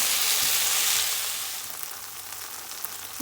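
Tomatoes with turmeric and onions sauté in a pan, a loud steady sizzle close by that eases slightly after the first second, with no talking.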